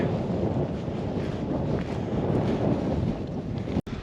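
Strong wind buffets the microphone on a snowy Cairngorms mountain top at about 3,050 feet, a loud steady roar of gusts with rumbling low pressure throughout and one brief sharp dropout near the end.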